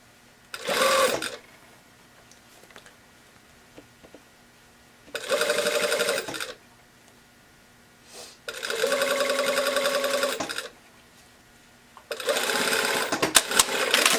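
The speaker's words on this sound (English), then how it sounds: "Making sure I'm not accidentally sewing any puckers in." A sewing machine stitches a set-in sleeve in four separate runs, each a steady whirring burst of one to two seconds with quiet pauses between, close and clear, with no talking.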